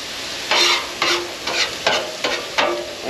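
Food sizzles in a pan with a steady soft hiss, broken by six evenly spaced stirring strokes over about three seconds. No one speaks.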